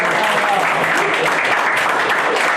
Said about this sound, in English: And you can applaud if you'd like to